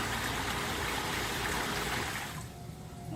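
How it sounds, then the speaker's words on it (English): Water pours steadily from a hot tub's adjustable waterfall feature in a Canadian Spa Company tub, a close broadband rush that thins and drops in level near the end as the flow is turned down. "turn on the waterfall, and then rotate it clockwise, turns it off"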